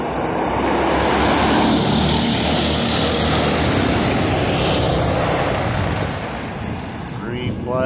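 Small kids' go-kart engines race in a heat at Argos, Indiana. The buzzy motor drone stays loud and steady throughout, with one kart passing close near the end, and a voice talks over it.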